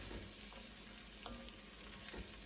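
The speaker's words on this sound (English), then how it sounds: "stir it and cook it until the rice looks kind of opaque" Risotto rice cooks in a pan while being stirred, a faint, even crackling sizzle with a few soft scraping strokes over a short stretch.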